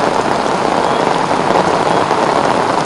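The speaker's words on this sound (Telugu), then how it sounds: "గ్రేటర్ వ్యాప్తంగా అన్ని ప్రాంతాల్లో ప్రస్తుతం వర్షం జోరుగా పడుతుందని చెప్పుకోవచ్చు" Heavy rain pours steadily onto a flooded city road in Hyderabad, a loud, dense and unbroken hiss with no voices over it.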